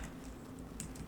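Keys on a computer keyboard are struck while a command is entered during a system-commands lab, with a few faint, scattered clicks over a steady low hum.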